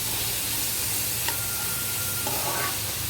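Garlic and chili fry in hot oil in a pan, a continuous soft sizzle and hiss with a few light stirring clicks, close and steady throughout without talk.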